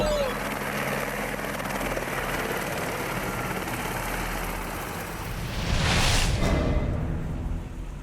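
Cartoon helicopter rotor from the Motu Patlu animated series, chopping steadily for about eight seconds, loud and close, swelling briefly toward the end, with a voice speaking over it.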